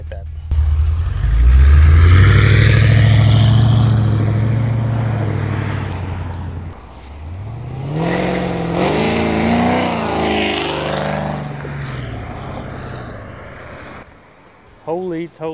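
A 2011 Cadillac CTS-V accelerates past in a loud flyby, its engine roaring close, rising and falling in pitch as it goes by, then fading out, with voices talking over it.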